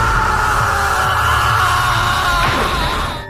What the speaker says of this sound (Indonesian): Mendengar teriakan itu,